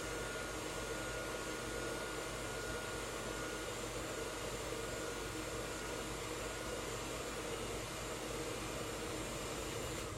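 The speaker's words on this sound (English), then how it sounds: "I've got my diffuser attached to my blow dryer." A blow dryer with a diffuser attachment runs continuously during hair styling, a loud, steady whooshing motor roar that holds unchanged for about ten seconds with no talking.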